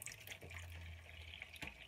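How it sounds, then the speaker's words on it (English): Water pours steadily into a dye pot holding yarn, a faint, close trickle and splash that continues throughout. A brief low hum sits under it, and a small splash sounds near the end. "So I'm just wanting to raise the water level a bit."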